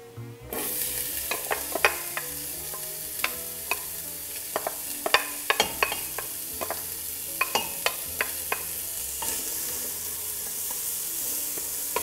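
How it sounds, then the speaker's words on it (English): Vegetables sweating in a pot for kale and chorizo soup, a steady sizzle broken by repeated sharp clicks and scrapes of stirring, close and clear with no talking. "and these just sweat for a few minutes"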